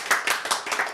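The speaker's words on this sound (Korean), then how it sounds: "박수" Several brisk, evenly spaced claps from an audience at a Korean church lecture, close and short.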